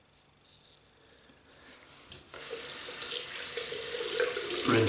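Water from a tap runs into a sink for rinsing during a wet shave, starting faint with a soft trickle, then surging into a steady, close hiss that grows louder toward the end, with no talking.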